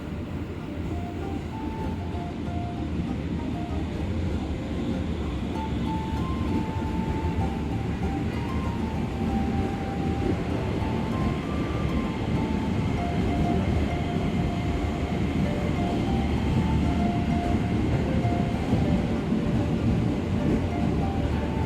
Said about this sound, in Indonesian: Ini adalah momen pertama kereta eksekutif New Gen masuk stasiun Gambir, Jakarta